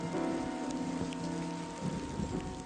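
Steady rain falling in a garden, a dense even patter of drops on surfaces with a low background rumble, continuous and fairly close.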